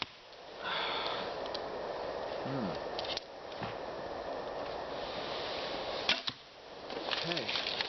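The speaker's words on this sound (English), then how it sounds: "Never mind my arrows, they are not flying perfectly because they are tuned for my thumb release" Arrows loosed from a bow with a thumb-ring release, each shot a sharp snap over a steady outdoor background hiss, with a couple of distinct releases spaced several seconds apart.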